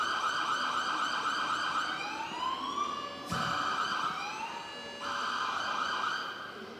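An emergency siren wails continuously at a startup innovation conference talk, its pitch sweeping up and down in repeated cycles, loud and unbroken with no voices.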